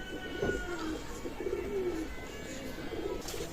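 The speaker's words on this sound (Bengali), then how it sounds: "জোড়া ওমান ব্লাডের টেডি কবুতর আছে" Soft, repeated coos from Pakistani teddy pigeons of Oman blood come in a few low rolling phrases over steady background hum, fairly close, with no speech.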